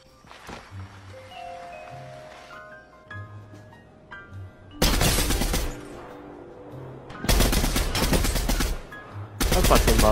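Bursts of rapid automatic gunfire from a gun in the Fortnite video game, three loud broadband volleys of several seconds each, separated by quieter stretches of game music and ambient tones.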